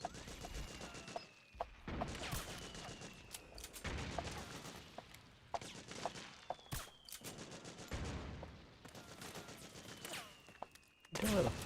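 Repeated bursts of gunfire from the video game Metal Gear Solid 4: Guns of the Patriots, with sharp shots and rattling volleys spread through the clip over a busy battle background, loud and close.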